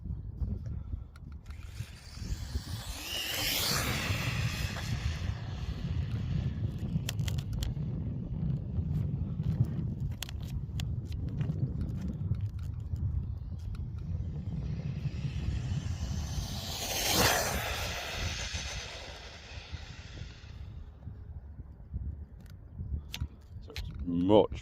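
A radio-controlled car fitted with a custom Kimbra spur gear and a bigger pinion runs outdoors, its high whine rising in two passes that swell and fade between stretches of wind noise and low rumble.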